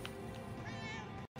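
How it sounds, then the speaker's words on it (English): A single drawn-out cat meow in the video game Murdered: Soul Suspect rises and wavers over a steady background hum, then cuts off abruptly. "I heard a cat."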